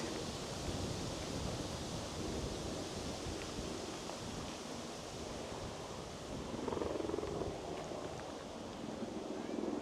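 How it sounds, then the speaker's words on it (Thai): Strong, cold gusty wind in a Japanese mountain valley at Kamikochi before rain, blowing steadily across the microphone as a broad roaring rush that swells slightly partway through, with no talk. "นี่ลมฝนหรืออะไรเนี่ย ลมแรงมาก"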